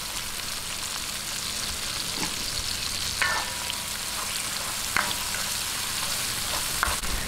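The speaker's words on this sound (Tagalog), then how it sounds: "Lalagay po natin itong ating chicken cube. Ayan, gisa-gisahin lang po natin." A chicken cube sautés in a hot pan with a steady close sizzle and crackle, broken by a few light scrapes and taps as it is stirred.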